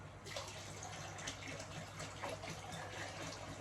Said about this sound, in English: I'll just put a bit of extra water in this way. Fresh water.